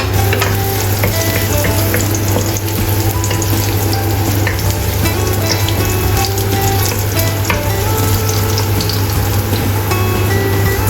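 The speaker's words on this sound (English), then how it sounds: "Stir-fry chopped ginger." Chopped ginger stir-frying in a pan, a steady loud sizzle with scraping stir noises running continuously, no voices.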